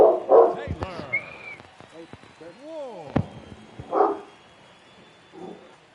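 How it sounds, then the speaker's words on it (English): A pet dog barks in the background during a baseball video game session, several sharp, close barks and yips in the opening seconds with a few more later, partly under talk. "that is my dog barking in the background"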